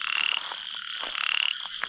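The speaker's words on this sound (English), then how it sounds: "Really tiny frog. The call that you hear here," A tiny frog calls in a rapid pulsing trill, high-pitched and insect-like, with a steady chorus of small frogs buzzing in the background at Challakere.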